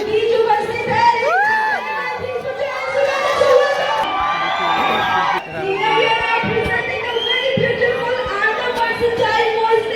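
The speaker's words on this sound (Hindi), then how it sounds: "जोरदार ताली" A large crowd at a song launch event in Lucknow cheers and shouts enthusiastically, with high whistles and whoops rising over a continuous roar of voices.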